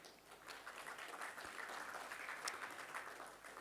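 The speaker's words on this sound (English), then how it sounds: "please give a very big, warm round of applause to our wonderful panel who've already on the stage" Audience applause for a panel already on stage at a university education summit, a soft, even wash of clapping heard from a distance.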